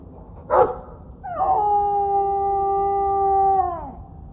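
A dog in the game Dragon Age 2 lets out a single drawn-out whine, rising then holding a steady pitch for about two seconds before trailing off, after a short sharp yip at the start; no talking.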